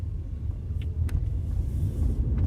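An automatic car pulls out of a side road, turning right and accelerating as it straightens up; a steady low engine and road rumble runs throughout, heard from inside the cabin with a few faint clicks.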